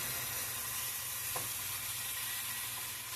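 Beef hamburger patties sizzling in a pan, a steady close crackling fry that holds throughout with a faint clink partway, no voices.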